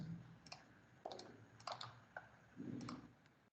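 A command is typed on a computer keyboard: a few scattered keystrokes and small clusters of quick clicks, close and quiet over a faint room hum.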